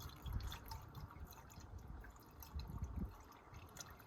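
Engine oil pours into the filler of a 2.0-litre VW Tiguan during an oil change, a faint, steady gurgling trickle with no voices.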